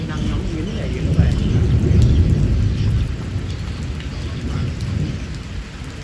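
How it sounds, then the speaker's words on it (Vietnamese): Heavy rain pours steadily on a house in Long An, Vietnam, with low thunder rumbling through it, loud and close, and a voice faintly present beneath the downpour. "Trời quá mưa, ai điều kiện nó không cho phép, có mưa."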